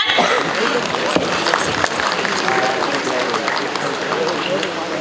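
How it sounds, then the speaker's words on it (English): Audience applause welcoming a speaker at an international conference, a dense steady wash of clapping filling the whole stretch, loud and close, with some voices mixed in. "a huge round of applause, everyone"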